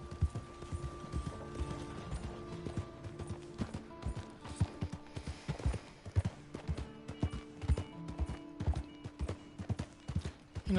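Horse hooves clip-clop at a steady walking rhythm in Red Dead Redemption 2, mixed with creaking tack and faint mechanical clicks, fairly close and clear with no talking.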